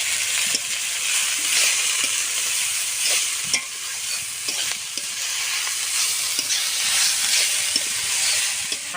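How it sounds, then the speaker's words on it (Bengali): Chickpea leaf greens with salt and turmeric fry in oil in a pan in a village kitchen, a loud, constant hissing sizzle with occasional stirring clicks and no talk. "শাকটাও দেখি ভাজা হতে থাকুক,"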